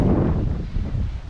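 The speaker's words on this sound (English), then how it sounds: "it's getting breezy." Breezy wind buffets an outdoor microphone during an at-home workout, a steady low rumbling gust with no voices.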